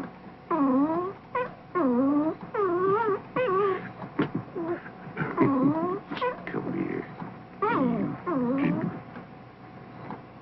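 A two-day-old puppy whimpers and whines in a series of high, rising-and-falling cries, close and fairly loud, with short pauses between bursts.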